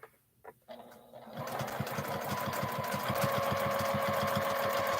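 A home sewing machine stitching free-motion quilted feathers through four layers of quilt starts after a few light handling knocks, then runs at a fast, steady mechanical chatter with a faint motor whine, close and without talk.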